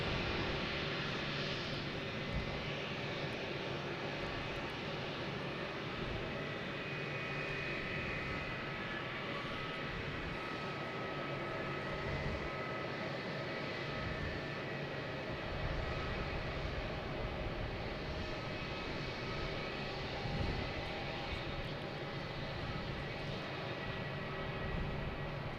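An airplane at Boston Logan Airport, a continuous roaring engine drone that holds steady and fairly distant, with no talking over it.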